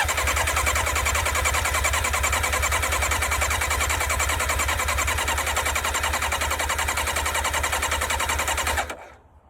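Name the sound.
sports motorcycle engine cranking and trying to start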